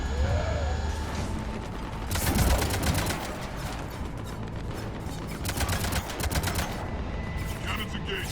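Cannons fire in the video game Mass Effect 3 during the Omega DLC, a dense, noisy barrage of rapid repeated blasts and mechanical clatter that runs throughout amid battle noise.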